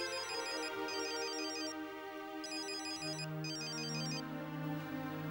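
A telephone rings with a bright electronic warble, two bursts of trilling tones separated by a short gap, over a steady low background hum.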